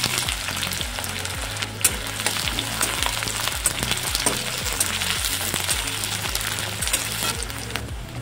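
Chopped onion fries in hot oil with bay leaf for a boal fish curry, producing a continuous hissing sizzle over a regular rhythmic scraping of the spatula against the pan, close and fairly loud.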